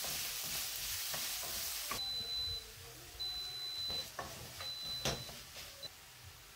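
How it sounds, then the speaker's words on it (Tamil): Chopped onions and green chillies sautéing in a pan, a steady soft sizzle broken by scrapes and taps of a stirring spoon, while faint electronic beeps sound in the background. "வெங்காயம், பச்சை மிளகாய் எல்லாமே போட்டு நல்லா வதக்கிக்க வேண்டியதான்"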